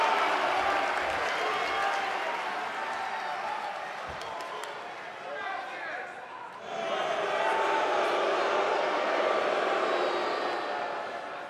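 In the WWE 2K19 wrestling game, an arena crowd applauds and cheers in a continuous wash of clapping that dips briefly midway, then swells again and holds steady.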